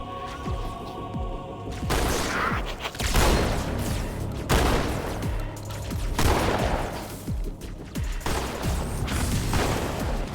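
Sustained Halo 2 firefight with repeated gunshots and bursts of automatic fire, loud and close, rolling in waves over several seconds with no voices.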